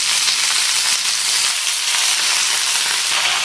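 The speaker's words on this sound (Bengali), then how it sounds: "ভাজা করে দিয়ে দিচ্ছি কেটে রাখা পালং শাক" Chopped spinach fries with onion and garlic in a hot pan, giving a loud, continuous sizzle and hiss. No voices are heard over the frying.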